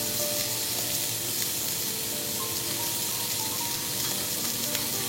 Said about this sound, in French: on va réduire tout doucement le feu et ça va finir de cuire